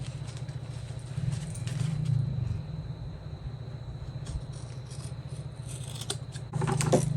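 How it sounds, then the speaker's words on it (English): Scissors trim the fabric corners of a bowler bag, with quiet repeated snipping and rubbing close by, plus a steady low hum. "you just want to trim these corner bits here so it's a round bottom"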